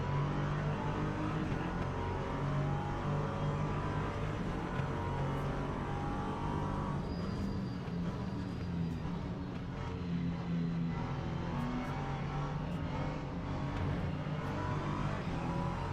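A pack of race cars roaring off at the start in Le Mans Ultimate, a steady, dense wall of engine drone and revving that stays loud and unbroken with no voices.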